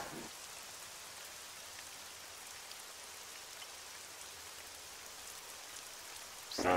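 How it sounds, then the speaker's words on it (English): Steady rain in a video game, an even hiss of falling drops throughout at moderate level, with a brief louder noise at the very end and no talk. "Oh, that rain."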